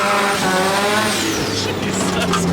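A rotary 13B-powered Datsun launches hard with a short, loud burst of high-revving engine and tire squeal, voices audible alongside.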